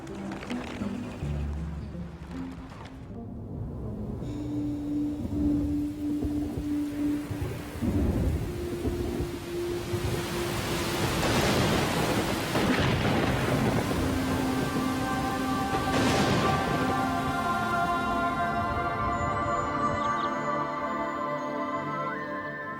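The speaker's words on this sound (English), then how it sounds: "It's raining." Autumn rain falls steadily over open grassland while thunder rumbles and rolls several times, loud and broad, with a brief voice or two faintly underneath.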